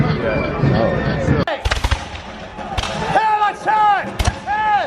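Musket fire rings out at a 250th-anniversary reenactment of the Battle of Lexington, loud cracking shots in a ragged volley outdoors, mixed with shouting voices and crowd noise.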